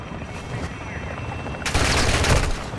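Video game gunfire during a multiplayer firefight, bursting in suddenly and loud partway through as rapid automatic shots, with players' voices around it.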